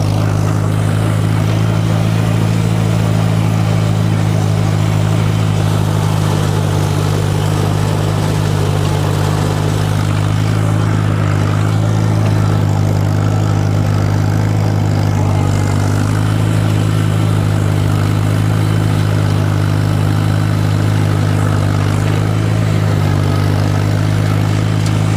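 A riding lawn mower with a naturally aspirated inline four-cylinder gas engine mows grass, its loud steady droning hum running unbroken and close throughout, with no talking.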